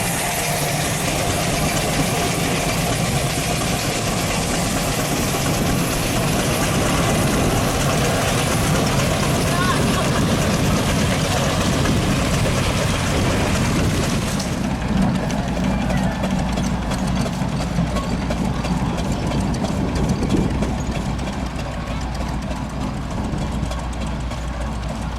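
A vintage Massey tractor engine idles steadily at a steam and vintage rally, a continuous mid-level rumble running throughout with outdoor background noise and a slight change in tone partway through.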